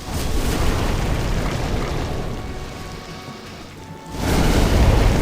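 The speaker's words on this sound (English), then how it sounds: "this is the only place I think I ever used the fire bombs anyways" Fire bomb explosion in the Demon's Souls video game: a loud, dense rumbling blast that fades slightly, then a second heavy boom swells in near the end, with no talk over it.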